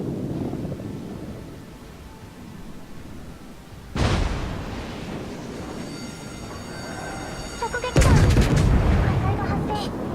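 Heavy naval gunfire from the Japanese battleship IJN Kongo in World of Warships, two loud booming salvos a few seconds apart with rumbling decay, over a low background rumble.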